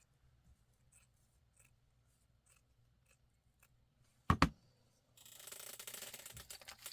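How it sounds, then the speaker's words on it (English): Tulle is cut off a ribbon for a junk journal craft: two sharp, close snips after near silence, followed by a few seconds of steady, soft rustling of the material. "I'm going to use some of that tulle just off of this ribbon. I hope you can see what I'm cutting off here."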